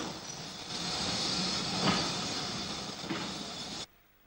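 SG3 class 060 steam locomotive no. 97 leaves Drogheda with a stopping passenger train to Dublin, a steady rolling rumble and hiss with a few faint knocks, cut off abruptly near the end.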